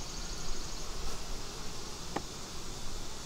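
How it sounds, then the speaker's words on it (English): Honeybees in a strong, calm hive opened during a beekeeping inspection give off a steady, even insect hum that fills the whole stretch, with one brief sharper tick partway through and no talk. "This is a very strong hive."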